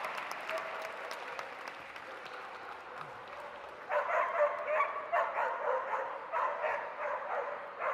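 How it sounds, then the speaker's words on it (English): Indoor audience clapping and cheering as a dog finishes an agility run at a dog show, steady moderate applause that swells midway, with a dog barking and yipping nearby. "so let's cheer them home over the last one"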